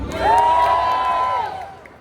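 A convention crowd cheers and whoops together, a sustained loud swell that rises quickly, holds for over a second, then fades out, with a shrill voice riding high above the mass of shouting.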